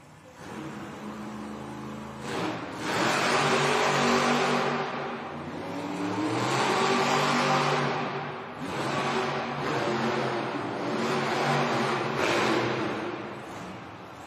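The Scooby-Doo monster truck's engine roars and revs in long surging waves during a timed racing run in an arena, loud and continuous with rising and falling throttle throughout.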